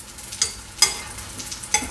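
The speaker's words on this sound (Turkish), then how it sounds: "Her tarafını eşit kızartacağız." Meatballs fry in oil in a pan, a steady crackling sizzle broken by a few sharp scraping or turning clicks, close up and alone.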